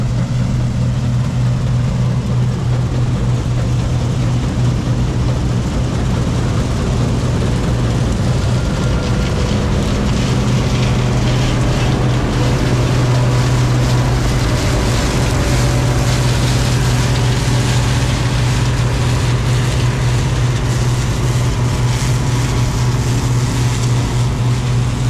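A dual-wheeled, four-wheel-drive combine harvester runs loud and continuous while harvesting damaged soybeans in muddy ground, with a steady low engine hum and a thick mechanical roar throughout.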